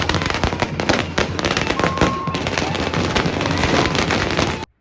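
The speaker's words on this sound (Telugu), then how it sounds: "ఇంకోవైపు అయితే మళ్ళీ క్రాకర్స్ పెడుతూనే ఉన్నారు" Firecrackers burst in rapid, dense volleys at a film trailer launch celebration outside a cinema, loud and close, crackling continuously before cutting off abruptly.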